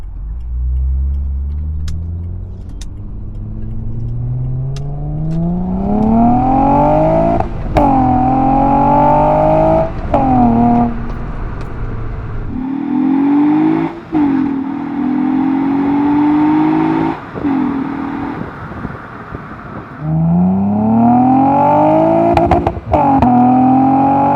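A Honda car engine with a custom-fabricated exhaust pulls hard down a street, its loud tone climbing through the revs, dropping at shifts and rising again, near and sustained.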